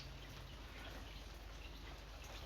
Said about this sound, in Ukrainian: іде дощ. Ще й такий нормальний.